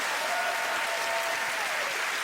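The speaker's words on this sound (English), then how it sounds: "Give him a round of applause anyway" A game show studio audience claps steadily, a dense even wash of applause that holds at the same level throughout.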